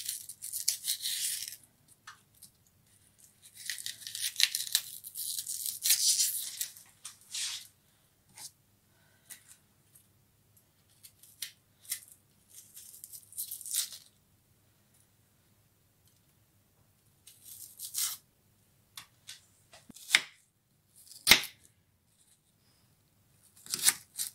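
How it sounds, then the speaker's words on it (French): An onion being sliced and minced with a knife for meatballs in tomato sauce: soft rustling scrapes at first, then sparse, irregular sharp taps of the blade on a board, quiet and with no talking. "Et maintenant, je vais couper mon oignon,"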